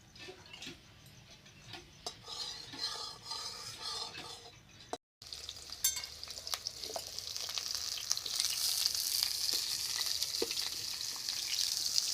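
Potatoes fry in a pan during an outdoor picnic cook-up, a steady sizzle dotted with small crackles and ticks; after a brief break it returns louder and denser.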